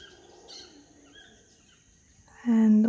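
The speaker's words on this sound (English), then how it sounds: "Various birds, parrots, toucans, thousands of insects" Jungle ambience of birds, parrots, toucans and insects: faint, scattered chirps and calls over a soft insect hum, ending with a louder, sustained tonal call.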